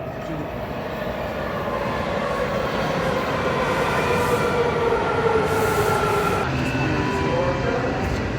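Washington Metro Red Line subway train riding between stations near McPherson Square, a loud, steady rolling rumble with wheel squeal and a rising motor whine, heard from inside the car, with voices faint underneath.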